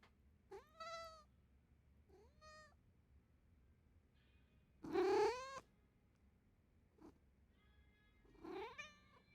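A cat in Like a Dragon: Infinite Wealth gives a series of clear, drawn-out meows, one much louder and longer in the middle, separated by quiet pauses over a faint background.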